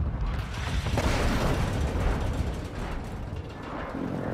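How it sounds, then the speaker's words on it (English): Explosions from an enemy precision airstrike in a video game, a loud rolling roar of blasts and rumbling debris lasting several seconds. "Enemy precision airstrike. Find cover."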